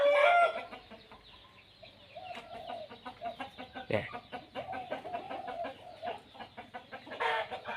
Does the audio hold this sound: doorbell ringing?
no